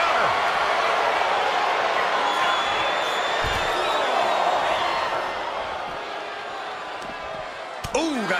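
A capacity wrestling arena crowd roars steadily throughout, a loud continuous wall of cheering that dips slightly near the end, with a commentator's voice over it.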